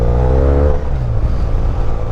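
A 2015 BMW R1200R motorcycle engine and exhaust drone loudly and up close, with a rising rev that eases back into a steady rumbling note.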